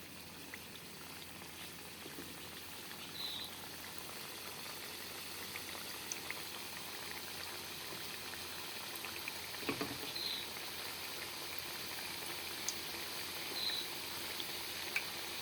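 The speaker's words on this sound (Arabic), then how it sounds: "ملي تاكدت من الزيت انها سخنات غادي نبدا نقلي" Chebakia dough frying in hot oil, a soft continuous bubbling sizzle with occasional faint pops, quiet and steady throughout, with no voices.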